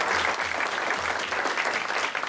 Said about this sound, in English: a big round of applause for our panelists today